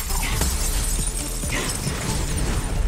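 Crystal smashing in the Skylanders SWAP Force video game, heard as several sharp shattering cracks and glassy bursts spaced over a few seconds against dense, loud game noise.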